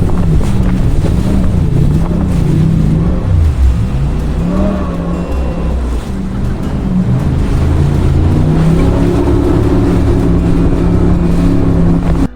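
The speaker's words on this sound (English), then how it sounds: "The noise of the water and the twin V8 engines was just amazing." Jet boat powered by twin V8 engines roars loudly and continuously over rushing water, a steady deep engine drone with wind buffeting throughout and no talking.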